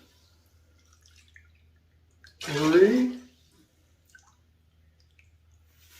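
Purified water poured into a pot for canning brine, one brief splashing pour of about a second in a quiet kitchen, with someone speaking before and after.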